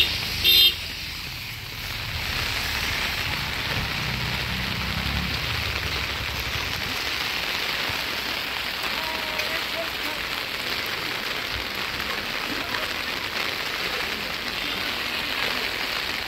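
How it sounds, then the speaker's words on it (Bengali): Steady rain falls in Darjeeling near Mirik and the Nepal border, a dense, even hiss of drops on nearby surfaces that continues unbroken throughout. "বৃষ্টি হচ্ছে"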